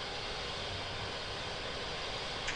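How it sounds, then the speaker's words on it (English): A Yak-40 jet engine spinning up on its air starter makes a steady, loud, broadband rushing whine that holds evenly throughout with no break. "Air starter on. Engine spinning."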